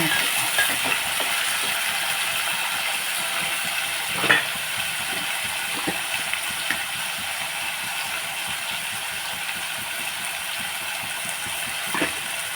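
Potato fry with turmeric cooks in a pan, a loud continuous sizzle and hiss with a few sharp stirring scrapes over about twelve seconds, and no one talks.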